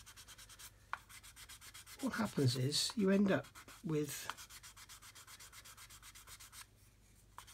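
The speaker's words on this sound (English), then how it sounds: "if you get the 600 grit sanding stick and just sand" Fine, rapid scratchy strokes of a 600 grit sanding stick continue steadily, with someone talking briefly over them partway through.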